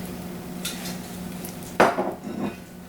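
Metal spoon scraping and clinking against a dish while cheese filling is scooped and pressed into pasta shells, a few soft clatters and one sharper knock close by, no talking.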